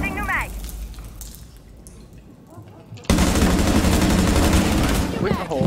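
In Rainbow Six Siege, quiet ambience breaks into a loud, sustained burst of rapid gunfire that continues to the end, with a brief voice near the start.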